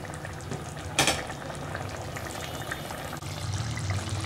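Capsicum chicken gravy simmers in a covered pot with a steady low bubbling and hiss, a brief clatter near the start, then the simmer continues, close and moderately quiet.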